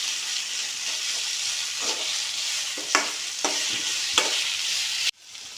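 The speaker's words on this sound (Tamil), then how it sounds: "புதினா மல்லி வதக்கி விடணும்" Mint and coriander leaves sautéing for a restaurant-style chicken gravy, a steady close sizzle and hiss with several sharp stirring scrapes, then a sudden drop at the end.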